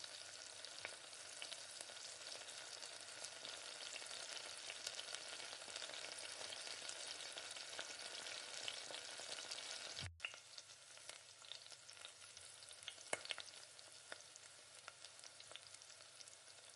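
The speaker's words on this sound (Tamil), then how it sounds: "இப்போ எல்லா சிக்கனையும் இந்த மாதிரி ஒரே மாதிரி இந்த மாதிரி பொரிச்சு எடுத்துக்கோங்க" Chicken pieces coated in masala fry steadily in hot oil, a loud continuous sizzle that stays close and dense. Around the ten-second mark there is a brief cut, and after it the frying carries on slightly quieter with small crackles.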